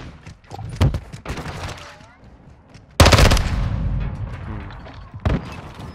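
Multiplayer gunfire in Call of Duty: Modern Warfare 2. A few sharp shots ring out early, then a heavy, loud volley of automatic fire with trailing echo, followed by one more burst near the end.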